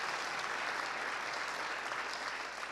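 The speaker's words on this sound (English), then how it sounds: "Liz Cheney getting a round of applause at the Kennedy Institute" At the Kennedy Institute, an audience gives Liz Cheney a round of applause: a short, even wash of clapping that sounds somewhat distant and muted, with no voices on top.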